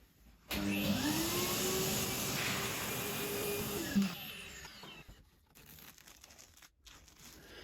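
A vacuum cleaner hoovers up spare ballast gravel from a model railway layout, switching on abruptly with a loud steady drone and crackling grit, then winding down after about four seconds, leaving quiet room noise.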